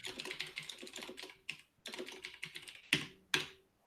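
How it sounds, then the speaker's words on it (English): Quiet computer keyboard typing in bursts of rapid keystrokes, pausing briefly, then ending with two sharper, louder key strikes. "That's my not impressed typing."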